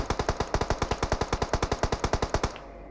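Rapid automatic gunfire in PUBG Mobile, a fast even burst of about thirty close, loud shots that stops abruptly, leaving a low hum.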